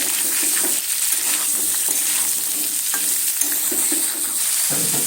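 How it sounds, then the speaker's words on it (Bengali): Brinjal, drumstick and shrimp with salt being stirred in a frying pan, a loud steady sizzle with repeated scraping strokes of the spatula against the pan, no one speaking. "নুন দিয়ে ভালো করে এইভাবে নেড়ে চেড়ে নিলাম"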